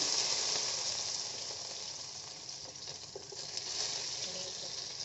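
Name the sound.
mustard seeds and small onions frying in oil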